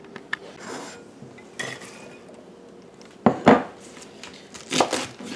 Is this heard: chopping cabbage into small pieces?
yes